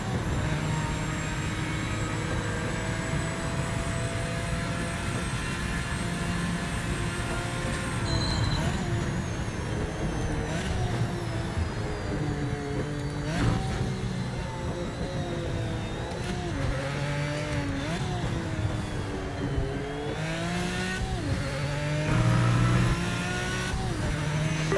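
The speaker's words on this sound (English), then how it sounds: "Look at that Porsche take off." A Porsche race car in Project Motor Racing pulls away under hard acceleration, its engine note climbing and shifting through gears against a steady roar of other cars on track, loud and sustained.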